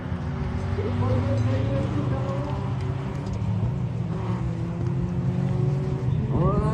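Race cars at the Fol'Car event in Mayenne, France, including a Peugeot 306 and a Honda, drone steadily with engine roar throughout, under continuous excited race commentary.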